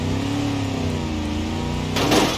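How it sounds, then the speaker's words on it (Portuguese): Car in the BeamNG Drive driving game revving and accelerating without letting up, a steady loud engine drone with rising harmonics that ends in a sudden noisy crash-like burst, no talking. "eu vou fazer um tipo acelerando sem parar"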